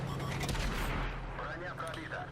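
Tank cannon fire and explosions in a tank video game, a dense, loud barrage of booms and rumbling blasts filling the whole stretch.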